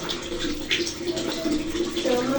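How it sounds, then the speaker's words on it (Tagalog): A water tap running steadily while a pet cat is bathed, a continuous close hiss and splash of flowing water that stays even throughout. "So, magana lang po tayo ng gripo."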